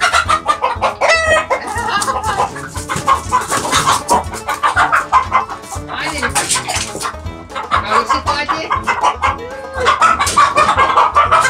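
Hens cluck loudly and continuously in a garden, a dense, busy chorus of close clucks with occasional crowing throughout.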